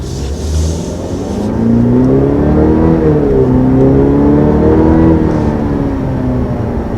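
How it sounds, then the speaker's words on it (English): A 2020 Cadillac CT5 accelerating, heard from inside as a loud, steady engine drone that climbs in pitch through the gears, with a shift-like dip partway and a rising whine, continuous and close. "So that was the first acceleration in the all-new 2020 CT5."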